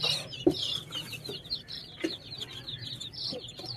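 Soft clucking and chattering from several ducks nearby, with a few sharper calls over steady background noise.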